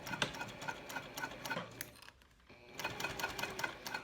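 A sewing machine runs close by, stitching back stitches on a key fob wallet. It makes a steady, rapid mechanical chatter that pauses briefly halfway through, then resumes as the stitching reverses.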